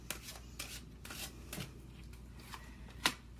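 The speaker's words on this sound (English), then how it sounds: "And I always shuffle these in front of you so, you know, I don't pre-pick them" Tarot cards are shuffled in quiet, soft riffling bursts at an irregular rhythm, with one sharper snap near the end and no voices.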